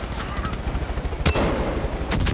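Super gun in Far Cry 5 fires at a helicopter, a rapid run of loud gunshots followed by heavier bursts and a sharp blast near the middle, while someone speaks one short word.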